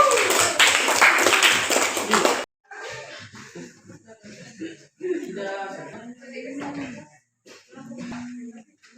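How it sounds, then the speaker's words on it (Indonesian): Classroom applause for a presenting student group in a lesson on alternative energy sources, a burst of dense clapping for about two seconds that cuts off abruptly, followed by a teacher talking in a quiet room. "Kita berikan aplaus kepada"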